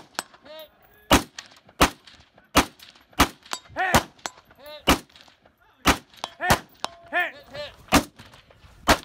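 Rifle gunshots at shooting range targets, a series of sharp loud cracks spaced a second or so apart, interleaved with tonal ringing pings from struck steel targets, outdoors and fairly close.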